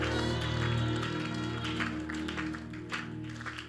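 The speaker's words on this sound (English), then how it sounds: "Give God a clap, a shout," A church congregation claps during a sermon, a dense, continuous patter of many hands at moderate volume over a steady low hum, tapering slightly toward the end.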